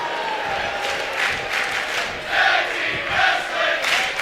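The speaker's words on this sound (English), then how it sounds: "the crowd is enjoying it" Wrestling crowd at a pro-wrestling show in Glasgow, cheering and whooping in steady waves that swell a few times, with a commentator speaking faintly underneath.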